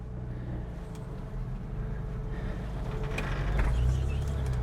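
A 4WD with no lockers engaged crawls over rocks in first gear low range, its engine held near 1000 RPM in a steady low rumble that swells slightly toward the end, close and continuous.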